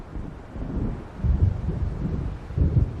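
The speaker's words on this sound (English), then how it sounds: "It seems there's a storm coming." Low, gusting storm wind from Alan Wake Remastered rumbles in heavy surges. A couple of deeper swells hint at distant thunder, and no voices are heard.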